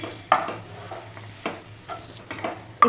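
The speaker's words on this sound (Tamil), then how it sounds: "இப்போது இதை 2லேருந்து 3 நிமிஷம் போல் கிண்டி விட்டுக்கோங்க" Potato masala for poori being stirred in a pan: a series of distinct scraping, clattering spoon strokes at irregular intervals over a low steady hum and faint sizzle, close and moderately loud.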